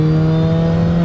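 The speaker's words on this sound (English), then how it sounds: "it has like that very signature 4-cylinder sound you get out the back" Supercharged Mini Cooper S with a low-displacement four-cylinder gives a loud, steady raspy exhaust drone with a strong tonal hum, heard close and alone.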